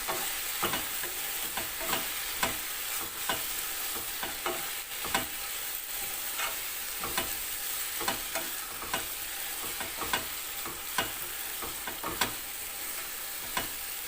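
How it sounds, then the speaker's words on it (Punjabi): Kasuri methi roasting in a pan for baingan bharta, with steady sizzling and a run of sharp, regular scraping strokes from stirring, close and fairly loud throughout, no voices. "ਤੇ ਕਸੂਰੀ ਮੇਥੀ ਇਹਨਾਂ ਥੋੜੇ ਨੂੰ ਭੁੰਨ ਲਾਂਗੇ ਆਪਾਂ"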